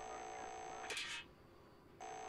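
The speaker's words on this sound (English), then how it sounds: "I think you have to dial pound to get outside." A phone in a horror video game plays synthetic dialing tones: a steady tone, then a brief louder burst, a short gap, and the tone again.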